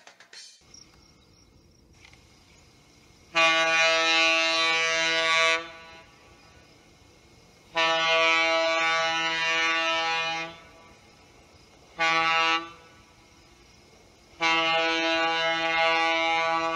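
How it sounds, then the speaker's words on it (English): A Union Pacific gas turbine locomotive's Leslie S-5T-RF air horn sounds four times, long loud chord-like blasts with one short one between, separated by brief pauses of quiet background. "Here are some samples of those horns."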